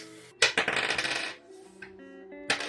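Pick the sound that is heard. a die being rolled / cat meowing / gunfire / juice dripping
a die being rolled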